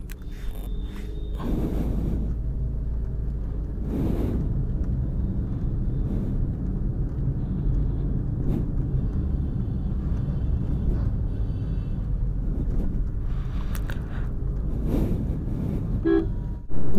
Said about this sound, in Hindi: सो मैं चला रहा हूँ मैनुअल फोर्थ गियर पे अभी कार